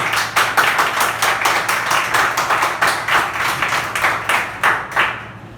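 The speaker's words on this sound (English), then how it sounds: "big round of applause for this guys" Audience applause for moot court participants at a coaching-class event, a steady run of fairly loud, distinct claps from a modest crowd, tapering off near the end.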